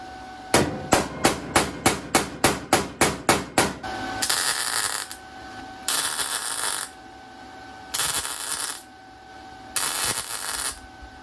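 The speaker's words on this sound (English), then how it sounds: "the hammer it is." Close, sharp metallic hammer blows strike a car body panel during a Volkswagen Bug and BMW body swap. A quick run of about ten even strikes is followed by several longer bursts of rapid hammering with pauses between them.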